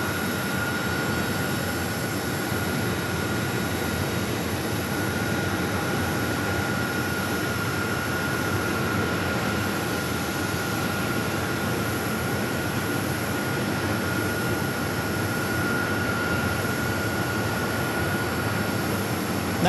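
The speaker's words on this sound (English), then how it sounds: "Getting ready to push back this 737." A Boeing 737 pushes back at Phoenix Sky Harbor airport, heard as a steady, unbroken roar of engine and ground-power whine with a faint high tone holding throughout at moderate distance.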